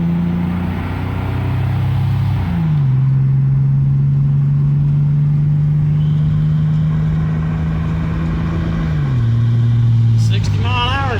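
An old Rockford Firebird cruises down the road with a steady, loud engine drone from inside the car, the pitch shifting briefly as the throttle changes while a voice talks over it.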